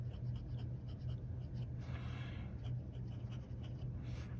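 A fountain pen filled with Robert Oster ink scratches steadily across paper, soft and close, over a constant low background hum.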